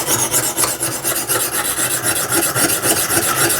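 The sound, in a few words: knife being sharpened on Lansky sharpening system stone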